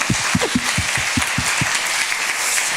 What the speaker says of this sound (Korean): 하나님 앞에 영광의 박수